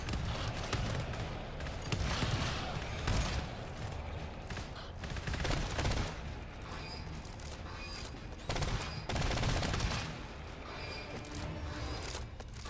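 Automated turret firing in the GTFO video game, rapid bursts of gunfire coming in several loud clusters with short gaps between them, no talk over it.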